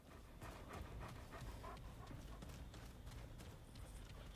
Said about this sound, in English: Do I get health back when I pet the dog?